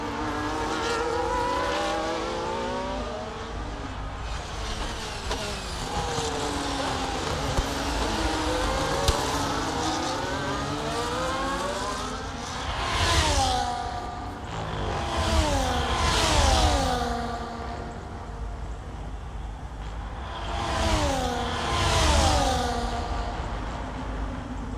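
Formula 1 cars in EA Sports F1 24 at the Spanish Grand Prix in Barcelona, engines droning and shifting in rising, falling pitch sweeps as cars pass, with louder swells of revving and a Haas car yielding to a faster car.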